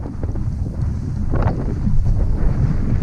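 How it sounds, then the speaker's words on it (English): Strong, relentless wind buffets the microphone while fishing in freezing cold, with ice on the reels and rods, and it roars close and steady throughout with no talk. "The wind never stopped."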